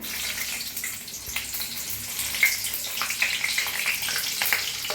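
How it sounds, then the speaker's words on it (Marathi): Long slit green chillies frying in hot oil for vada pav, a bubbling crackling sizzle with scattered pops that grows slightly busier toward the end. No one talks. "आता त्याला तेलात सोडून तळून घेऊया"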